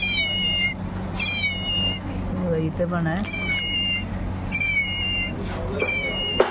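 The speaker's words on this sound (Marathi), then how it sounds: "प्रेस केलं की आवाज येतो मांजरीचा." A toy cat lets out repeated electronic meows each time its button is pressed, several bright synthetic mews spaced across the clip while someone talks over them.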